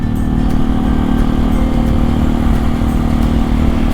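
A 250 motorcycle with a five-speed gearbox underway, a loud, steady engine drone with a low rumbling pulse and wind, holding an even pace with no talk.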